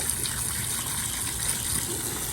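Water gushes steadily from a tap into a box of makeup brushes, a close, even pouring rush that holds for the whole span with no talk.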